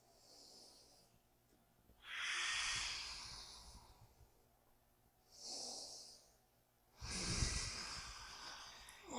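Deep, slow breaths during a mobility workout: two long hissing exhales alternate with two shorter ones, close to the mic and airy, with quiet gaps between them.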